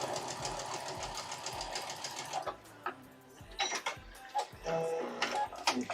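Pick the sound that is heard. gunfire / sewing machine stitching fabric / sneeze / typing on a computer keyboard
sewing machine stitching fabric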